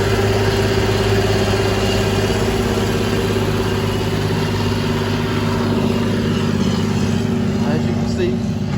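A John Deere 8420 tractor with no DEF system runs in a field while pulling a harrow over rough dirt, its engine giving a constant, loud drone with a steady low hum throughout.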